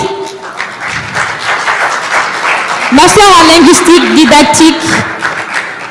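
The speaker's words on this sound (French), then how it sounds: "Applaudissez pour lui." At a year-end ceremony for foreign students in Bejaia, the audience gives applause for a graduating student, steady clapping under an announcer speaking over a microphone, with a brief musical or vocal tone rising midway.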